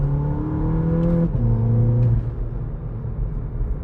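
A VW Polo GTI engine fitted with an aftermarket downpipe exhaust revs up, holds a steady droning pitch, then dips and rises again, loud and close with no talking.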